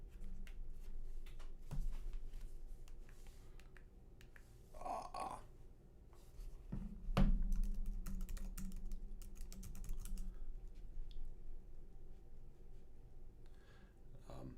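A credit card number is typed on a computer keyboard, quiet scattered key taps near the mic, with a few louder clunks and a short scraping handling sound in between.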